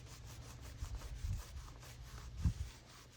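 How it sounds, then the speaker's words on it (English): A cloth soaked in denatured alcohol rubs and wipes along the belt line of a 2006 Monaco Diplomat motorhome, giving soft, faint scuffing strokes with a couple of firmer swipes, close by and with no voices. "using that denatured alcohol, just clean it up, cleaning the surface so we could put some new caulk down"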